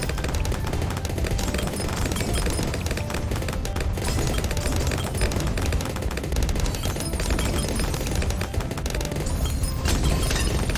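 Bloons TD 6 towers firing nonstop on the Resort map, a dense, steady barrage of rapid popping shots that stays loud and even from start to end, with no voices.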